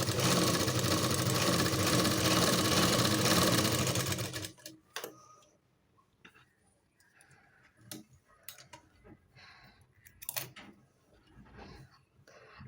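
Sewing machine running steadily and loudly for about four seconds while its stitch tension is tested, then stopping and leaving scattered ticks and clicks of the mechanism.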